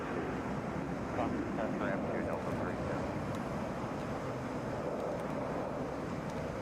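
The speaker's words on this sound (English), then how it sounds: "It's a Boeing 757." A Delta Boeing 757 airliner at Atlanta airport gives off a broad, distant jet rumble with wind buffeting the microphone. The rumble is steady and fairly faint.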